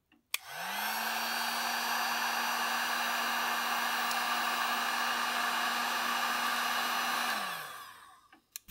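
A heat gun blows steadily on tight heat shrink tubing over a repurposed power supply lead, a loud, close, even airy roar with a faint tonal hum that starts abruptly and winds down after about seven seconds.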